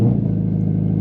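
A 2023 Dodge Challenger Black Ghost launches hard under throttle, giving a loud, close, steady engine roar with deep rumble throughout a brief burst.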